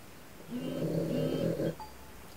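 A small pig-like dog asleep by a door snores in one long, steady rasping breath, soft and close, with quiet room tone before and after.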